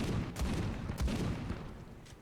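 Shotgun blasts in the Warhammer 40k game Space Hulk: Deathwing, a few heavy booming shots about a second apart amid dense gunfire and combat noise, loud and close.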